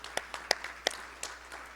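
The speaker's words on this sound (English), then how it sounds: "A round of applause also for them" Sparse, scattered claps from a small crowd at an industry research and collaboration event, a handful of sharp hand claps spread unevenly over a couple of seconds, fairly faint and without talk.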